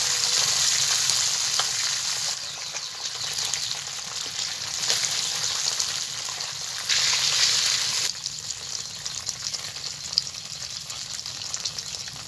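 Bay leaf, one dry red chili and whole cumin seeds sizzle in hot oil as a tempering for a chicken curry. The frying hiss is loud and continuous, shifting slightly in strength now and then, with no voices.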